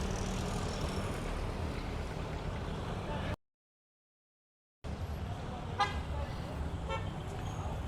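Busy nighttime street in Mactan Newtown with jeepneys and vans rumbling past and horns tooting, a steady traffic roar broken by a brief silent gap, with talk mixed in.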